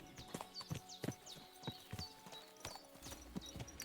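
A horse in Kingdom Come: Deliverance 2 walks with steady, evenly spaced clip-clop hoofbeats, fairly close, over quiet ambient game sound.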